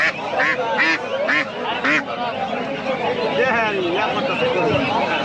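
Peking ducks quack in harsh, repeated bursts at a busy rural market in Bangladesh, close by and mixed with steady crowd chatter and people bargaining.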